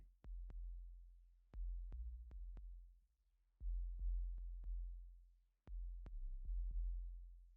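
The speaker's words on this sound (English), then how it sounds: "so you can see like hear the sub frequency on just this one." A synth sub oscillator plays a sine wave in a hip hop beat, deep sustained bass notes in phrases with gaps between them, marked by short clicky percussive hits above.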